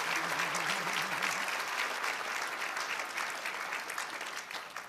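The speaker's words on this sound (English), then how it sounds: "How about a warm applause to welcome them to the stage?" A conference audience at a national summit on auto theft gives steady, warm applause welcoming panelists to the stage, a continuous dense clatter of clapping that fades slightly at the end.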